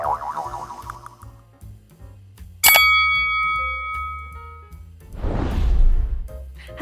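A bright notification bell ding rings out sharply with a lingering metallic tone, set among other cartoonish boings and a whooshing burst in an intro sound-effect sequence.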